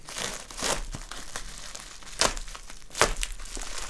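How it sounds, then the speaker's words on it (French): Bubble wrap crinkles and rustles close by in bursts of crackly handling, with a few sharper crunches and no talking. "il y a plein de papier bulle"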